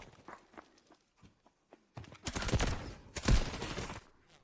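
Gunfire in the Delta Force video game: a few sharp close shots early, then two heavier bursts of rapid fire standing out loud against a quiet background.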